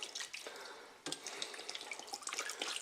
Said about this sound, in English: But we are going to fill them up with water